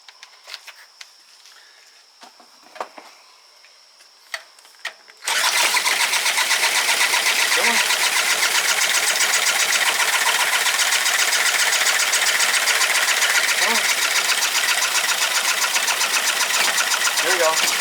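An outboard boat motor that had trouble starting: a few faint taps and a quiet voice, then the motor abruptly catches and runs continuously as a loud, buzzy, rapid high-revving drone with slight pulsing.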